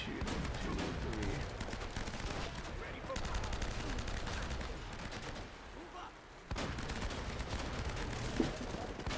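Gunfire in the Uncharted action video game, heard as a dense, continuous rattle of shots through most of the clip, with a brief dip before the barrage picks up again, mixed with game noise.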